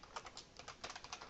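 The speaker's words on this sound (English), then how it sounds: "while I'm just typing some of this out" Rapid, fairly quiet keystrokes on a computer keyboard, an uneven run of clicks heard up close with no talking.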